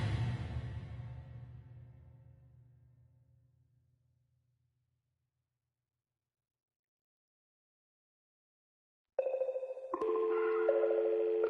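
A ringing tone fades into silence, then a steady telephone dial tone cuts in and shifts into layered electronic tones, during a PS4 live broadcast.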